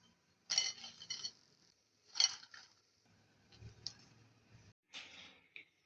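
Fried chillies clinking as they are lifted from a pan onto a plate while making gundruk pickle, in a few separate bursts of utensil and dish contact with quiet gaps between.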